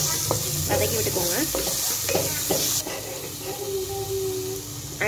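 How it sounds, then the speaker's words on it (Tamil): Tomato rice masala with fresh mint being sautéed in a pan, with a steady loud sizzle and repeated scraping strokes of a spoon against the pan close by. "வதக்கி விட்டுக்கோங்க."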